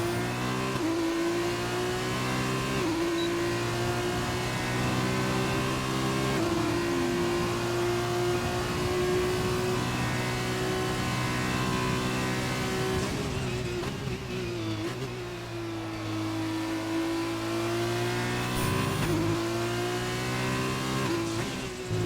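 Race car engine in a sim racing game on an out lap after leaving the pit lane, a loud steady drone with repeated gear shifts and rises in pitch, running alone without talk.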